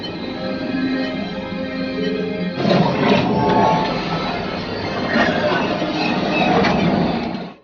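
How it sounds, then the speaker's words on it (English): On the Millennium Falcon ride, a steady mechanical hum with tonal whines gives way to a loud rushing, rumbling light-speed jump effect with rattling bursts that continues to the end. "make the jump to light speed"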